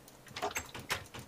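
A wooden door in the Minecraft video game opens and shuts, two short knocking clunks spaced about half a second apart, fairly faint and without talk.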